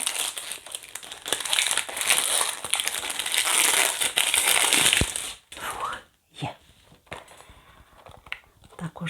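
Crinkling and rustling of a gift box's cardboard and paper packaging being unpacked close up, continuous for several seconds, then a few soft taps and knocks.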